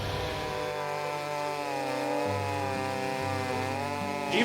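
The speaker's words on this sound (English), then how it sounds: "I do a lot of the chainsaw milling" A chainsaw cuts through wood during milling with a loud, steady engine roar that shifts pitch slightly under load, with no talking.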